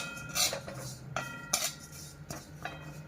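Dink ladoo mixture scraped from a pan onto a plate, heard as a few sharp metallic clinks and scrapes of a spoon against steel spaced across a few seconds, fairly close and with no voices.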